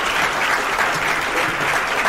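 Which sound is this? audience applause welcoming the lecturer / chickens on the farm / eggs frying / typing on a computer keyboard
audience applause welcoming the lecturer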